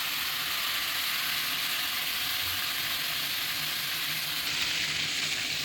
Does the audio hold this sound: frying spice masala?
yes